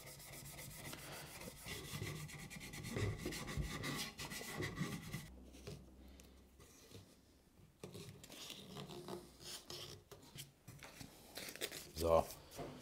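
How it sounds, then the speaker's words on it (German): An office chair's surface being lightly sanded by hand, repeated rasping rubs in uneven strokes, close and fairly quiet, with brief pauses and a few knocks. "Die Oberfläche von dem Ganzen mal leicht anschleifen"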